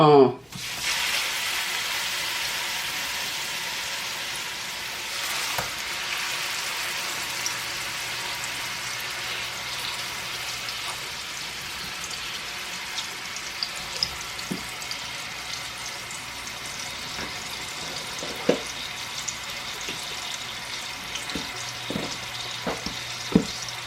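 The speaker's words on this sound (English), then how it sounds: "let's get over here and fry one" A Salisbury steak patty fries in a pan with a steady crackling sizzle, bright and continuous, with occasional pops and a few stirring knocks.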